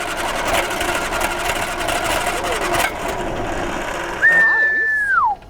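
An abandoned 1978 Triumph Spitfire engine cranks over with a steady mechanical churn for about three seconds. It then drops quieter, and a sliding whistle-like tone rises and falls near the end.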